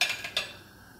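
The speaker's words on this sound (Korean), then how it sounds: "뚜껑을 덮고 한번 끓여주세요." A metal lid is set onto a pot of simmering kimchi stew in a kitchen. A few quick, faint clinks land within a second, then fade to quiet.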